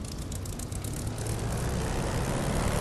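A Spitfire's piston engine held at 1800 RPM in the DCS flight simulator, a loud, steady, unbroken roar with a slight rise in level, alone without talk.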